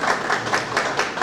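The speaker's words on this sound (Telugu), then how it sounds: "అందరూ మరొకసారి చప్పట్లు." An audience at the opening of a rehabilitation centre claps steadily, a dense close patter of applause that lasts about a second.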